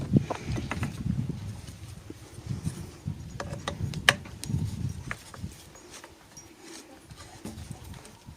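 A Torx key loosening a bolt on the harness mount holder of a Stihl FS90 brush cutter, with scattered close metallic clicks and taps over low handling rumbles that thin out toward the end.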